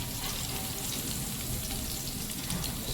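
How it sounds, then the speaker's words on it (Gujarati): Cumin seeds, finely chopped garlic and green chili tempering in hot oil for a vegetable pasta, giving a steady close broadband sizzle and crackle that runs unbroken throughout. "તેલ મૂકી દીધું હો વઘાર કરવાનું થોડું જીરું લીધું"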